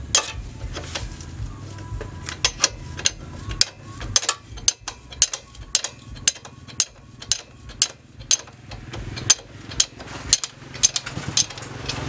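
A ratchet tightens a motorcycle wheel while an inner tube is replaced on a Honda Supra, giving a long series of sharp metallic clicks and taps in uneven bursts, close and clear with no talk.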